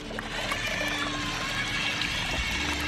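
Water splashing and churning close by as an amphibious remote-control dinosaur toy car with paddle wheels drives through water, with a continuous pouring, trickling sound and a low mechanical hum underneath.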